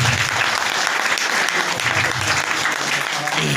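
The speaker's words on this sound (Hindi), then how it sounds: "इसके लिए एक बार उनको भी दिल से चाहूंगा जोरदार तालियां" Loud, dense applause from a large audience at a marketing motivational event fills the room continuously, a steady wash of many hands clapping with no gaps, with faint voices mixed in.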